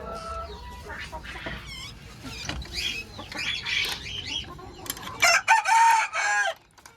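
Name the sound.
white naked-neck deshi rooster and chickens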